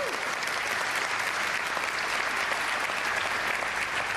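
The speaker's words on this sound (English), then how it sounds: "it is about time that we all give ourselves a round of applause" Dense, sustained applause from a large conference audience at an energy industry opening ceremony, steady and loud throughout with no gaps.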